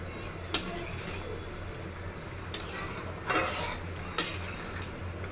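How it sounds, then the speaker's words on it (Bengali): A pot of catfish and bean-seed curry with green chillies is stirred over the stove, a few sharp spoon clinks against the pot spaced a second or two apart over a low, steady simmer. "এখন একটু নেড়ে নিব।"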